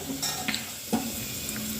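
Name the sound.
melon seeds being roasted and stirred in a pan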